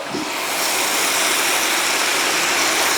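Beef, bell peppers and onion brown in a pot for chili con carne, giving a loud, close, continuous sizzling hiss throughout.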